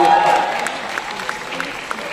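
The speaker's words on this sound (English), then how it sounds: "when you're clapping" Audience applause at a speaking event in London, a steady wash of clapping that fades slightly over two seconds, heard without any talk.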